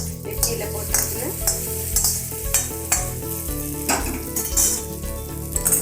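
Spices tempered with asafoetida sizzle and crackle in hot oil for a pirandai chutney, with steady frying hiss and repeated stirring and scraping clinks of a utensil against the pan, close and busy throughout.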